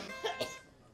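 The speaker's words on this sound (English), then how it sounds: "If I can stop coughing." A person gives two quick, soft coughs in close succession in a quiet room, a brief dry double cough with little else around it.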